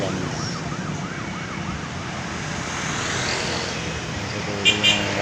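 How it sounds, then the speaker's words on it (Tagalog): A large truck rumbles past on a dark roadside at night, a broad steady roar with traffic noise and a faint siren-like whine, plus a couple of sharp knocks near the end. "ito yung malaking truck."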